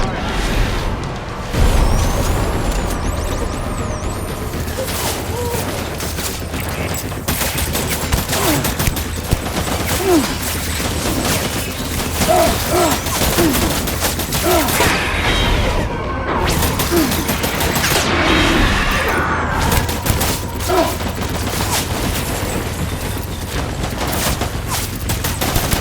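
Gunfire in the video game Death Stranding, a dense continuous barrage of shots and crashing impacts that runs loud throughout, with voices talking over it.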